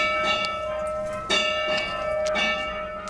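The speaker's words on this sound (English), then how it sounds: "And you can even ring the bell on this locomotive." Bell on narrow-gauge steam locomotive Rio Grande Southern number 74 at the Colorado Railroad Museum rings out three times in a steady rhythm, each stroke sustaining with a bright, lingering metallic tone, close and alone.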